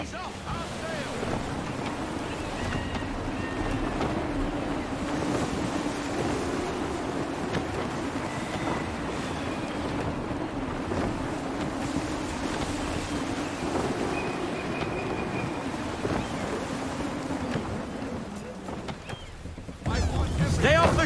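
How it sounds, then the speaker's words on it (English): Steady wind rushing past the microphone and waves washing against the hull as a sailing ship moves across open water in Assassin's Creed III, a continuous roar that swells near the end, with a voice speaking faintly beneath it. "Wind looks to be shifting. Stay alert, Connor. Gusty winds can be difficult to manage."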